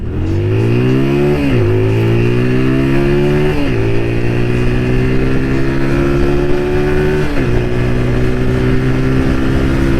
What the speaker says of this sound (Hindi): देखो अभी मैं बाइक को खींचूंगा